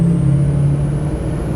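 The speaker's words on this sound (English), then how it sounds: "Oh my God, this truck sounds so good." A lifted, air-bagged Ford F-250 pickup with a 6.0 diesel engine idles with a steady, deep rumble, close and loud, with no other sounds over it.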